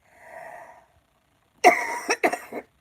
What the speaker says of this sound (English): I can't be coughing.